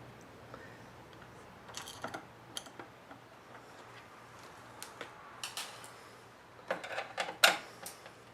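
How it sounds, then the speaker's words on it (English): Screws come out of an Electrolux range control panel in small, faint metallic clicks and ticks scattered over several seconds, with a slightly louder cluster of taps near the end and no talking. "what I'm going to do is remove the remaining screws, being very careful not to drop them"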